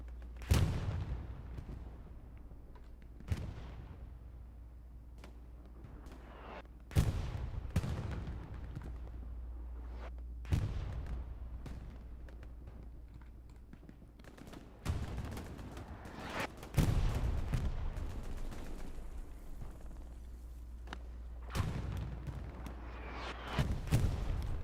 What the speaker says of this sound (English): Nades being tossed back and forth. Bombing run coming in.